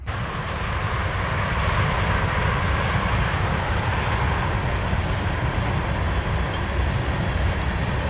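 A CN northbound freight train rolls past a crossing at Shoe Factory Road on the Leithton Subdivision, with an unpainted DPU in the middle. It makes a continuous, steady low rumble and roar of wheels and engines, fairly close, with no voices.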